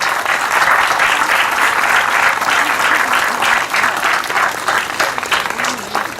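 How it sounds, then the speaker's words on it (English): An audience at an elementary school grand reopening ceremony claps loudly and continuously, a dense wash of applause sustained for several seconds with little variation. "Give yourself a round of applause."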